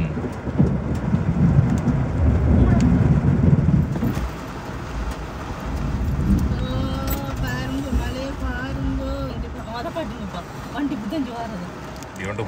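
Heavy rain pours steadily in Qatar, a dense wash of noise that eases after a few seconds, with traffic passing through the wet streets and voices speaking over it.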